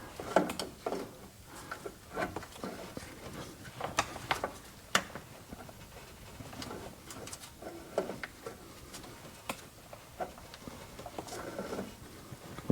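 Pliers grip and twist an oil filter on a Ford F150, giving irregular close metallic clicks, creaks and ratcheting scrapes in uneven bursts.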